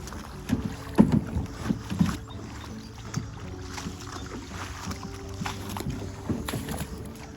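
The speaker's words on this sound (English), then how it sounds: "I hit some rocks." A kayak scrapes and knocks against rocks in a shallow creek, with a few sharp thumps early on, then softer rubbing and water movement under light wind noise on the microphone.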